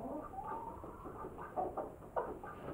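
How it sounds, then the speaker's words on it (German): Rooster and chickens clucking in a coop while feeding, soft scattered clucks and short calls at a moderate distance, fairly quiet. "Da ist der stolze Hahn."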